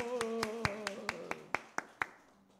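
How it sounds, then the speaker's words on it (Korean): A small church congregation claps during a Wednesday worship service, about a dozen distinct, evenly paced claps ringing out over a faint hum of voices and tones that fades toward the end. "박수"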